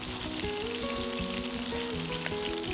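Chicken cutlet pan-frying in hot oil for teriyaki chicken, pressed down as it cooks, gives a steady, close, dense sizzle that runs unbroken throughout, with faint tonal lines in the background.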